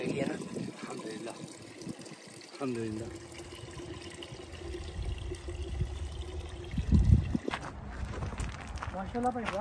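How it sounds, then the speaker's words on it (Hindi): Water poured from a container onto flowers at a grave on a hot summer day, heard as a faint splashing trickle under people talking, growing louder toward the end. "तो अभी इब्रार भाई और मैं जा रहे हैं थोड़ा सा पानी देने के लिए"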